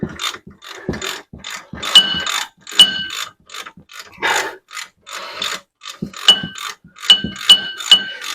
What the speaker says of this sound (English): Now I can just pull them off with the ratchet